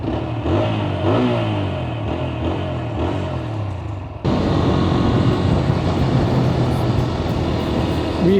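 A Hero Xpulse 200 motorcycle engine revs during a road ride, its pitch rising and falling in loud repeated surges before a steady, heavy rush of wind noise takes over for the rest of the stretch.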